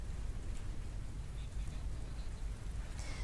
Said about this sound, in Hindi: दरभंगा में ओलावृष्टि के साथ बारिश हो रही है।